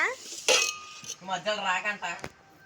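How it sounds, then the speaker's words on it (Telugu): Cut mango pieces for avakaya pickle are mixed in a vessel, giving a few close metallic clinks and clatters, with a brief voice in between. "దీన్ని మొత్తం మిక్స్ చేయాలంట"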